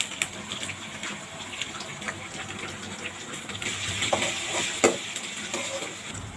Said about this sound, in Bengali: একটু জল দিয়ে মশলাগুলো মিশিয়ে নেব।